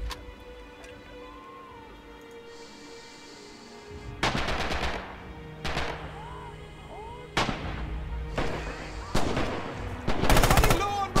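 Gunfire in the WWII shooter Red Orchestra 2: Heroes of Stalingrad, with heavy bursts of automatic fire and loud single shots cracking close by in irregular clusters over a rumbling battlefield background, growing denser toward the end.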